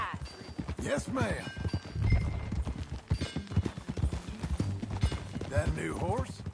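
Rhythmic clip-clop of horse hooves riding in Red Dead Redemption 2, running under in-game dialogue with background music.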